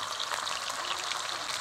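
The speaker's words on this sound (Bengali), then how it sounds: "চিংড়ি মাছের মধ্যে একটু হলুদ দিয়ে ভেজে নিচ্ছি।" Prawns coated with turmeric frying in hot oil in a kadai on a lit clay stove, giving a dense, even, close crackling sizzle that never lets up, with no voices.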